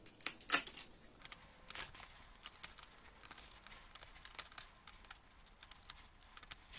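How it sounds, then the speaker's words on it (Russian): Sharp metal snips clipping through a stiff plastic old disc, a quick run of crisp cuts and small clicks, close by and fairly quiet with no talk. "Берем ножницы по металлу и начинаем резать."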